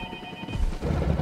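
A telephone rings briefly in the video game Jurassic World Evolution 2, a short electronic ring that cuts off after about half a second and gives way to loud, rumbling crunching noise.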